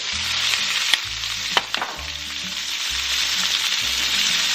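Onions, celery and carrot fry in a pot for braised beef short ribs, a steady loud sizzle with a few sharp clanks and scrapes from stirring, no talking.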